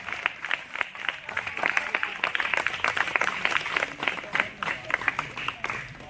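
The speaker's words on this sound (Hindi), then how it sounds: "जोरदार तालियां बजा दीजिए।" Audience applause at a tribal value and rights orientation training, dense clapping filling the hall for the whole stretch, fairly loud and steady with rhythmic bursts, while a voice talks faintly beneath it.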